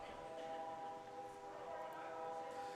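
A train rumbles past near a ballpark during a baseball game, a steady faint roar with a sustained horn-like tone running throughout.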